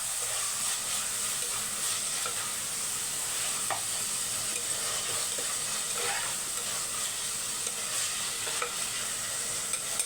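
Egg vermicelli fries and is stirred in a pan, giving a steady, close sizzle with repeated scraping and stirring strokes throughout, no voices.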